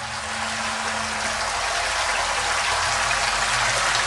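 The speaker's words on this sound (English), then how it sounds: "let me show you how it looks while I get the power turned on to the pump" A pump pushes water up and over a laser-cut metal fountain plate two by three feet, giving a steady, even rush and splash of flowing water that runs unbroken throughout, loud and close, with no talk.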